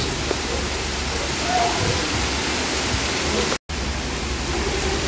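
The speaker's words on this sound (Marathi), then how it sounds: "असा पाऊस चालू झाला आहे" Heavy rain pours down in a loud, dense, unbroken hiss that cuts out for an instant partway through.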